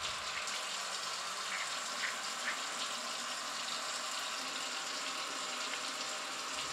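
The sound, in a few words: washing hands with soap and running water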